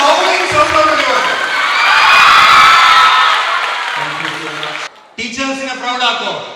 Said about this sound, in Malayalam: നല്ലൊരു ഹൗളിംഗ് സൗണ്ട് കൊടുക്കാം.